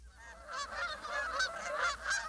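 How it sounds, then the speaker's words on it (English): A flock of geese honks in a busy, overlapping chorus of nasal calls, moderately distant and fairly faint, with no other sounds standing out. "waterfowl, geese,"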